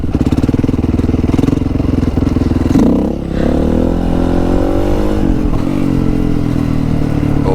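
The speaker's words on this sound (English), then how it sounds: "This is hard to do on a dirt bike." A dirt bike engine revs hard and steadily through a wheelie, loud and close, with a brief dip near the middle before the throttle builds again.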